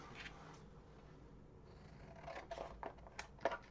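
Scissors make a few quiet snips and crisp cutting sounds near the end, close but soft, against a faint background hum.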